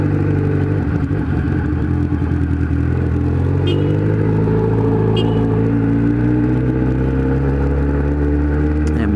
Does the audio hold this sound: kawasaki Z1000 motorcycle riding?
yes